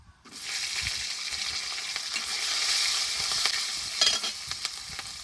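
Green chillies and vegetables hit hot oil just after a spice tempering, bursting into a loud, steady sizzle with crackling spits and a few stirring clatters, close and continuous.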